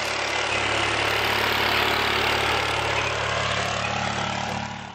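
A zero turn mower engine drones steadily while towing a small trailer, a loud, close and even engine hum that fades slightly near the end, with no talking.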